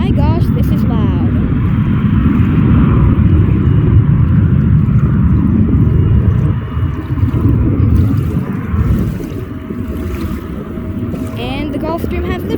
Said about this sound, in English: And the Gulfstream has liftoff.